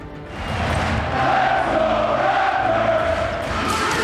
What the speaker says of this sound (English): A sold-out crowd on their feet. at the Air Canada Center